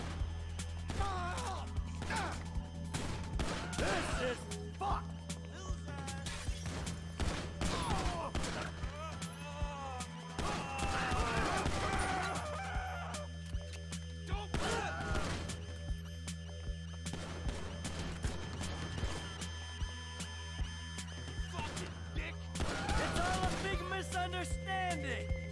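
Bursts of gunfire ring out during a GTA V story mission, scattered shots and rapid volleys mixed with game effects, while someone talks over the action throughout.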